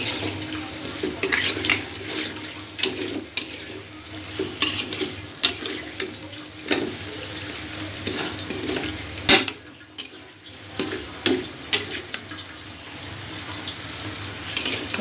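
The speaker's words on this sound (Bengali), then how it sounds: "এবার এই পটলগুলো দিয়ে একটু কষিয়ে নেব" Pointed gourds (potol) for dolma are stir-fried in hot oil, with repeated scraping stirs and clinks of the pan over a constant sizzle, close and without talk.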